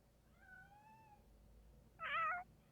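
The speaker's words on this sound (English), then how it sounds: "Oh, kitty cats." Cats meow in the Shadow of Memories video game: a soft, drawn-out meow near the start, then a louder, sharper meow a little later, both over a quiet background hum.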